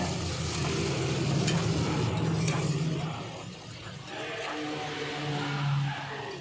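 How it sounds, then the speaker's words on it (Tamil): Chopped tomatoes sautéing in oil for a chicken curry with roasted ground masala, a loud continuous sizzle with stirring scrapes and a brief dip in the middle, no talking. "இந்த தக்காளி நல்லா எண்ணெயில் வதங்கணும்"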